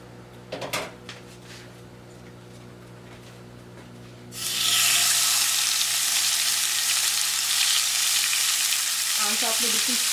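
Chicken malai boti sticks are laid in a lightly oiled pan over low heat, a few clunks first, then a loud, steady sizzle bursting up and holding, with a little extra clatter near the end.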